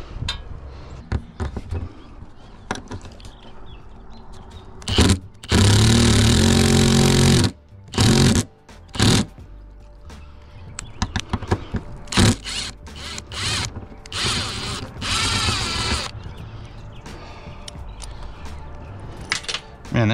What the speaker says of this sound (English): And we'll get the rest of these drilled in.